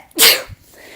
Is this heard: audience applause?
no